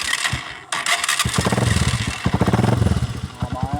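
A TMX Alpha 125 motorcycle engine cranks, catches after a brief pause and settles into a throbbing, revving idle with a clattery mechanical edge, close to the recorder.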